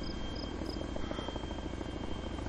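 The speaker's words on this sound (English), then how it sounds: "Let's get this helicopter so we can fucking sell it." A helicopter in the video game Arma 2: DayZ Overpoch runs with a continuous, fairly loud rotor drone and fine rhythmic chatter, with a thin high whine on top and no speech.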